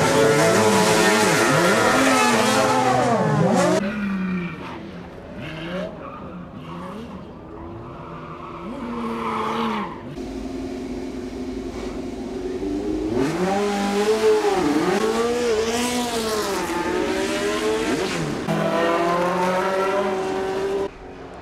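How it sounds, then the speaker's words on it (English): Formula 1 and Group C race cars driving at the Goodwood Festival of Speed, engines loud and close with rising and falling revs and passing sweeps, easing off midway before building again to a continuous roar. "We're going to get 70 F1 cars and Group C cars out for you at the moment."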